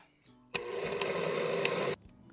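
Blender grinding melon and pineapple with water: the motor starts abruptly and runs for about a second and a half with a loud, steady whir, then cuts off.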